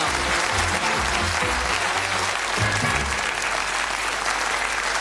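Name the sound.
studio audience applause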